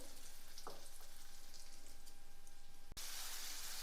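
Mango chutney stirred in a pan on a stove over low heat, a soft steady sizzle with faint scraping, ending in a sudden loud clatter near the end.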